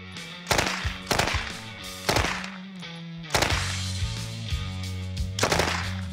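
A rare Owen submachine gun fires 9mm on full auto at fruit outdoors, with several loud, close bursts of rapid shots separated by short pauses and ringing echoes.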